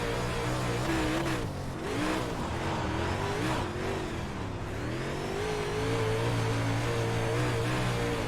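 Engine of a dirt-track race car in the iRacing sim at Kern County, revving loudly and steadily with rising and falling pitch over a continuous roar, no talk.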